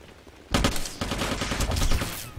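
Rapid automatic gunfire during a video game clan war practice match, two close, loud bursts of dense rattling shots, the second longer and sustained to the end.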